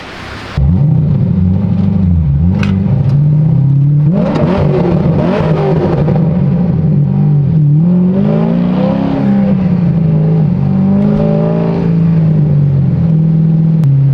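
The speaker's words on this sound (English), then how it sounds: "I probably might get in trouble for revving it" Car engine revving hard inside a shop, loud and close, with repeated throttle blips rising and falling over a steady idle rumble for the whole stretch, no talking.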